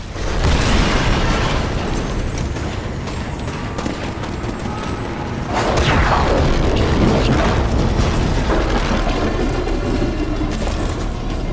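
A cannon blast in the video game Titanfall is a dense, sustained roar of explosions and rumbling bursts, loud and close throughout, swelling again partway through.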